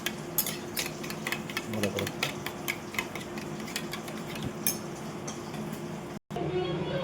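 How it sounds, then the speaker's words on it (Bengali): Curd whisked with sugar in a bowl, a rapid rhythmic series of clinks and taps from the utensil, close and fairly loud, with a brief spoken phrase near the end. "দিয়ে আবার দইটাকে ফেটিয়ে নেব"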